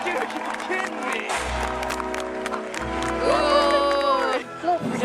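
A crowd cheers and applauds in excitement at the reveal of Left 4 Dead 2, a broad, steady roar that swells toward the end, mixed with game music and a voice talking over it.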